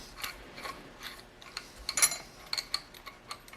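Threaded rod with an outer nut being screwed into a hole in a Mercedes 6.3 engine block during disassembly: faint, close metallic ticks and ratcheting clicks in an irregular run, with a brief brighter cluster midway.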